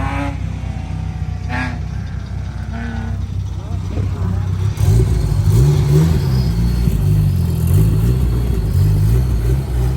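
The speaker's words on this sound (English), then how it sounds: "So we're gonna let Jake do a lap in the old S2000, the undriftable car." A turbocharged Honda S2000 engine idles low, then revs up loudly and roars as it accelerates nearby at a drift event, with people talking over the engine noise.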